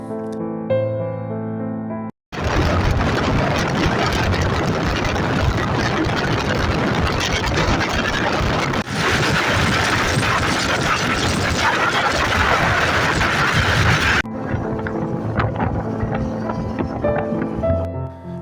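A motorbike ride along a forest road in Purulia, the engine roaring loud and steady for about twelve seconds after a brief quieter start, then dropping to a softer hum as the bike eases off.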